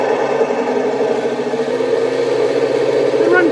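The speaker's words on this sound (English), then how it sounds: "we'll just run the dry run the tracks here" Tracks of a 3D-printed 1/16 scale RC M4A1 tank run unloaded, making a steady mechanical whir and hum with a faint rising whine near the end, close by.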